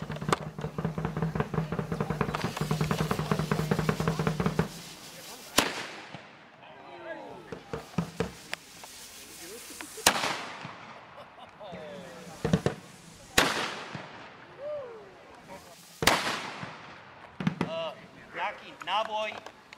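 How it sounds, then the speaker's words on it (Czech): Loud sharp blank shots at a children's day show, several cracks spaced a few seconds apart with echoing tails, while a voice talks over a speaker system early on and people speak between bangs. "jak uvidíte, že se už to chystá ten výstřel, tak si lehce přicpěte uši"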